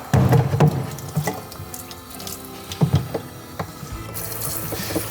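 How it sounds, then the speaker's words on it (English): Clean water runs into and sloshes around a compact floor scrubber's tank during a rinse, a steady nearby splashing stream with intermittent knocks and bumps, no talk. "let's rinse the tank out with some clean water so you don't have malodor building up"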